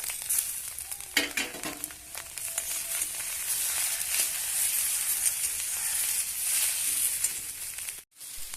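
Green chillies, tomato and already-fried potato sizzling in a pan while cooking egg Maggi, a steady close frying hiss with brief stirring clatter, continuous throughout and ending in a sudden short pause.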